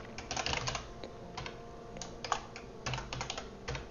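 Rapid typing on a computer keyboard during app coding, with bursts of clustered key clicks separated by short pauses, close and fairly quiet with no talking.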